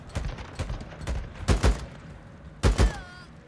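Gunfire in the video game Days Gone, with several sharp bursts that stand out clearly, the loudest pair landing around the middle and another pair near the end.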